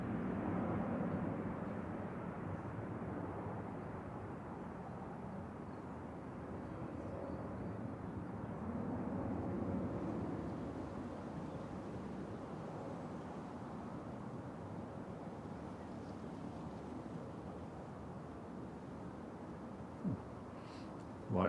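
Qatar Airways Boeing 787-9 departing Manchester Airport, a broad, steady jet roar heard from a distance that swells slightly and then holds without other sounds on top.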